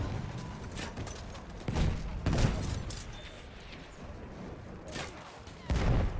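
Gunfire in the World War I shooter game Battlefield 1: a dense, continuous clatter of shots and distant battle noise, with louder bursts of fire breaking through around the second and sixth seconds.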